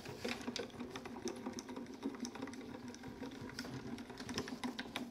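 A Grand Calibur die-cutting machine rolls taped paper through, giving a steady mechanical whir with dense rapid clicking and ticking throughout, close and continuous with no talking.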